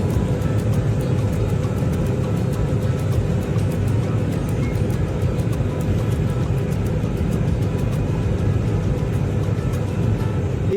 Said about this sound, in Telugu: చెవులు గడ్డలు కట్టిపోయినాయి ఆ ఫ్లైట్ సౌండ్కి